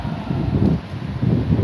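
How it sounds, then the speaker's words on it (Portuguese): Wind blows outdoors through a subtropical palm tree on a cool, windy, cloudy day in Porto Alegre, with gusty low rumble and soft leaf rustling swelling and easing in a few waves. "Pegando aí um ventinho."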